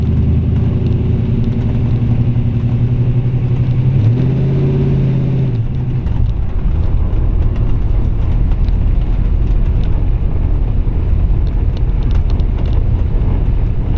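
Steel-bodied 1940 Ford Coupe resto-rod with a 350 V8 and 700R4 automatic rolls through a parking lot, its deep engine rumble steady and close, shifting pitch midway as it pulls away, with wind buffeting the microphone.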